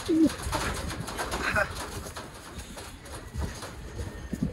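Racing pigeons coo softly nearby amid a rumbling background, with a few low throaty calls scattered over several seconds.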